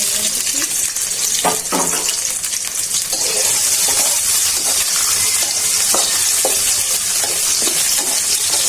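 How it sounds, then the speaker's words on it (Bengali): Chopped onion frying in a pan for Bogura-style potato ghati, a loud, dense sizzle running throughout, broken by repeated clinks and scrapes of stirring. "পেঁয়াজটা ভাজা হয়ে গেছে, হালকা একটু জল দেওয়া দিন"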